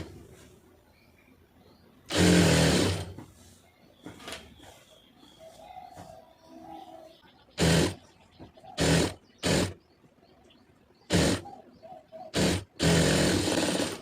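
A sewing machine stitches a cigarette pant in short separate runs, loud bursts of rapid needle clatter between quieter stretches where a voice talks.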